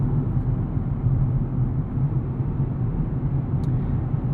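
A 2025 Nissan Z with a twin turbo V6 and six-speed manual drives beneath a bridge, giving a steady, loud, low rumble of engine and road noise that stays even throughout.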